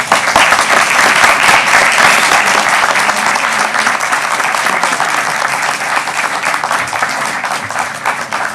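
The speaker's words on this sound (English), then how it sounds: "Please give him a round of applause." Loud, sustained applause from a full room at a city council meeting, a dense, even wash of many hands clapping at once that holds steady and fades slightly near the end.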